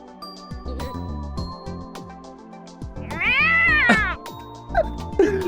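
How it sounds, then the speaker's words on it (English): A single drawn-out cat meow from Steins;Gate 0, loud and close, rising over the game's background music, followed by a few short clicks and blips. "Straight up sounds like they just took a cat and recorded it."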